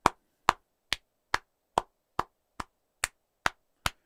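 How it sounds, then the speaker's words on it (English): A single person claps steadily about ten times, each clap sharp, close and evenly spaced, with silence between and no talking. "Why am I clapping for Olmo?"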